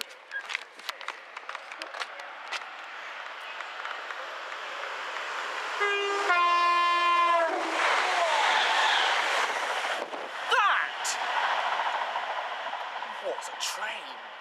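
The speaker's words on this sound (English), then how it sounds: "What's a train? With a horn." A train rolls past with rail clatter rising, and its horn blares in a long chord at mid-distance, followed by continuing wagon rumble; voices talk over the start and end.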